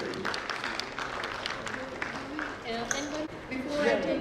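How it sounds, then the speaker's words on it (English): Audience applause for a presentation team at a medical conference session, dense steady clapping filling the room for several seconds and swelling toward the end. "A big round of applause for the PGI team."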